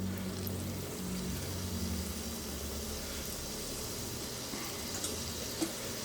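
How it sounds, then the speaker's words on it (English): Battered fish frying in a deep fryer at its hottest setting, a steady low bubbling sizzle that holds evenly throughout, fairly quiet and close, with no talk. "you want to put the fish in and wait for it to sear a little"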